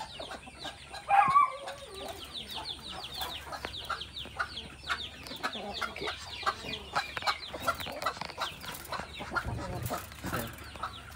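Orpington chickens cluck and chatter in a coop, a busy layer of soft repeated clucks with one louder squawk early on and faint rustling throughout.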